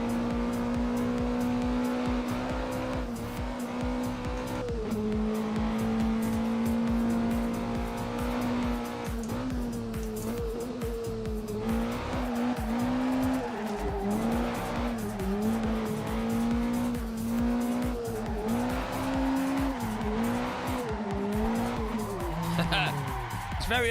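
Race car in the Assetto Corsa driving game sliding sideways, its engine note wavering continuously with intermittent tire squeal throughout, loud and close, while someone talks over it.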